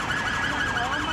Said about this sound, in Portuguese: equipes da Polícia Civil pararam as viaturas em que trabalhavam e ligaram suas sirenes.